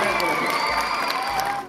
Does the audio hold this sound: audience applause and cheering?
yes